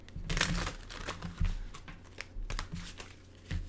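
Crisp papery riffling and crinkling of tarot cards being shuffled in short bursts, close up, a few separate shuffles with soft pauses between them.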